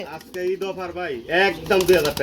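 Pigeons coo in soft, wavering, throaty calls, several overlapping phrases close by, mixed with people talking at a pigeon sale.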